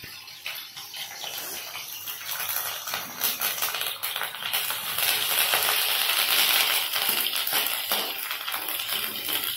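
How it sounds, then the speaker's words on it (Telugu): Cashews, green chillies and curry leaves frying in a pan, a steady dense sizzle and crackle that swells slightly louder toward the end, with no talking. "జీడిపప్పు వేగిన తర్వాత పచ్చిమిర్చి కొద్దిగా వేగిన తర్వాత"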